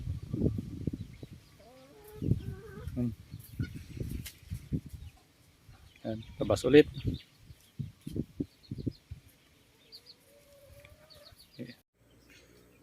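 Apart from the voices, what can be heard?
chickens clucking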